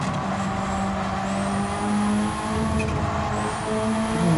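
An engine-swapped Subaru in Gran Turismo 7 roars at high speed, a loud, steady engine drone with occasional turbo flutter and no pauses.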